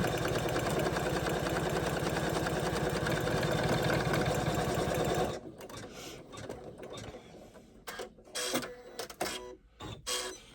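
An embroidery machine stitching a seam on an in-the-hoop mini tote bag, running as a loud, dense rhythmic whir for about five seconds, then stopping and giving way to quieter intermittent clicks and handling sounds.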